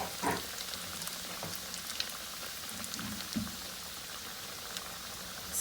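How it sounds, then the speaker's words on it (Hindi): Homemade chicken nuggets frying in oil over a low to medium flame, a faint, even crackle and bubbling that runs steadily throughout with a few soft pops. "इसको लो टू मीडियम फ्लेम पे ही हम लोग फ्राई करेंगे।"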